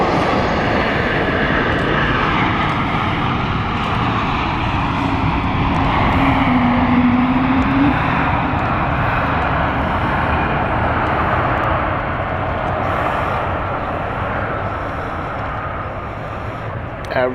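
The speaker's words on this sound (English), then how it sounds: "Love that noise. Those Pratt & Whitney engines." Aircraft with Pratt & Whitney engines at London City Airport, a steady broad engine roar lasting throughout, fairly loud and continuous with a brief tonal whine in the middle, with no one talking.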